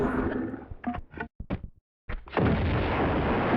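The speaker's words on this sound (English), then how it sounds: "I'm going to use the amazingness that is the grenade launcher to do it." A grenade launcher in the Tomb Raider 2 video game fires several sharp booming shots in quick succession, followed by a sustained loud rumbling blast that carries to the end.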